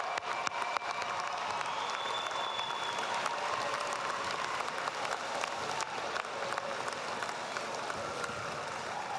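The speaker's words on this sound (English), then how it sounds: "join me for another round of applause to congratulate the College of Professional Studies, class of 2022" Sustained applause from a graduation ceremony audience, broad and steady for the full stretch, with faint crowd noise and no clear voice over it.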